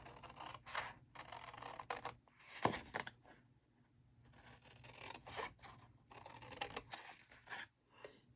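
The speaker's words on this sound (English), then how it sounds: "I want to cut up my flaps" Scissors snipping through the cardboard flaps of a glue dot box, several close, crisp cuts and rasping strokes in irregular bursts with short pauses between them.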